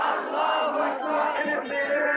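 Protest march crowd shouting a slogan in unison in response to a leader, a dense chorus of many raised voices sustained for a couple of seconds, loud and close.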